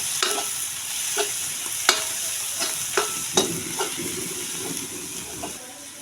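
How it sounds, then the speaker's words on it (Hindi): Masala is stirred into radish curry cooking in a pan on a traditional clay stove, a string of sharp spoon scrapes and knocks over a soft sizzle, close and fairly loud. "ये डाल के और मिक्स कर देती हूँ और फिर इनको 1-2 मिनट के लिए वापस पकाएंगे"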